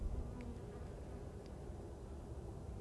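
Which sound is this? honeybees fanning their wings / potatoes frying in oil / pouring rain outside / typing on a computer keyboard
honeybees fanning their wings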